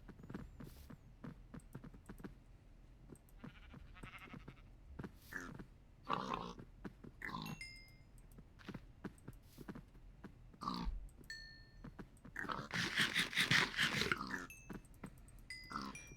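Farm pigs grunt and oink at feeding time, short snorts and squeals scattered over the clip, with a louder burst of squealing near the end and footsteps and clatter around them.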